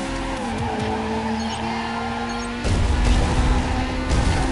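A car in the racing game Ridge Racer Unbounded drifts with loud sustained tire squeal over a steady engine drone, and the engine roar swells sharply partway through.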